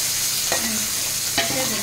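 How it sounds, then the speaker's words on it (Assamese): Fish frying in a pan for a home dinner gives a steady, loud sizzle, with two brief sharp clatters as the pieces are moved or stirred. "এইফালে মাছ ভাজি আছে"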